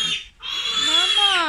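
A mother pig on a piggery farm, one of two sows that each farrowed nine piglets, makes a loud, drawn-out, squealing grunt close by after a brief pause, with a person's voice mixed in.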